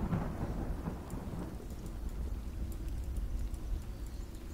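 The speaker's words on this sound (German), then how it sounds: "Ich sollte schnell was suchen, wo ich mich vom Regen unterstellen kann." Steady rain and low rolling thunder from the video game The Star Named EOS, a continuous hiss of rainfall with soft drop patter and a dull rumble underneath, with no talking.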